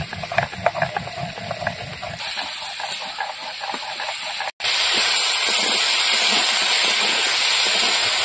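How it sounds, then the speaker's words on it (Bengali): Cumin seeds being ground into a paste on a stone, a steady scraping, rasping rhythm up close, with a loud continuous hiss taking over after a brief cutout midway. "লঙ্কাটা বেটে তুলে নিয়েছি, এবার জিরে বেটে নিচ্ছি।"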